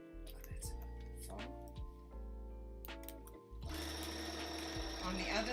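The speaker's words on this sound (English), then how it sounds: "I'm going to sew down the edge" Sewing machine stitching along the edge of a backpack strap, running in bursts with brief stops, close, with a voice talking over it.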